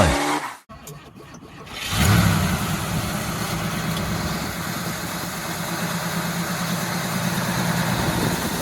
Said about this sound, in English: 1969 Chevrolet Nova SS Coupe 4-speed.